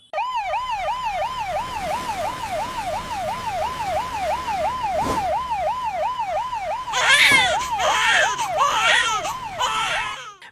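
A loud wailing ambulance siren rises and falls in a steady repeating cycle, joined later by a high crying sound and shifting noise.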